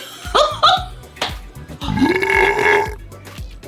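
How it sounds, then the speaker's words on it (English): A loud, drawn-out burp rumbles close by after a few short vocal bursts, ending abruptly. "Is that another burp?"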